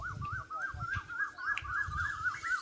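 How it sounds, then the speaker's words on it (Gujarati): Birds call on a village farm plot, a quick chain of repeated bright chirps running steadily over soft low thumps, fairly faint and without talk. "જોયું ને મિત્રો કેમ છે અમારી વાડીમાં પંખીનો કલરવ."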